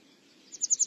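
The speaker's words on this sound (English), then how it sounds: "So willow warbler is a fantastic song, and for me it epitomizes spring really." A willow warbler sings a brief phrase of soft, high repeated notes, building to a close series of pulses in the second half, faint and alone against quiet background.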